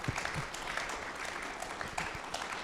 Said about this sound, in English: that deserves in and of itself a round of applause.